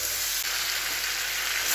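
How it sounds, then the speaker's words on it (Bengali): Chicken with onion, garlic, whole garam masala and bay leaf frying hard in a pan, a dense continuous sizzle that holds steady and close throughout, with no talking. "চিকেনটা কষা করছি"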